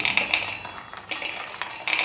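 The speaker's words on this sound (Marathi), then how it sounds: "आता एक मिक्सरचं भांडं घ्यायचं आहे आपल्याला त्यामध्ये हे शेंगदाणे आपल्याला" Peanuts are tipped into a mixer jar, giving a short run of light clinks and rattles close by, with no talk.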